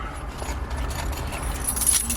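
Keys jangle briefly as they are set into a small storage cubby inside a 2024 Toyota 4Runner TRD Off Road Premium, a light metallic rattle close by over a steady low cabin hum.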